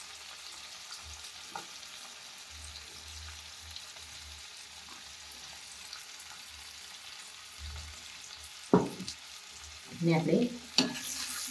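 Curry with crushed roasted peanuts and garam masala cooking in a pan, a soft, low sizzle throughout, then a few louder scraping stirs near the end while a voice speaks briefly.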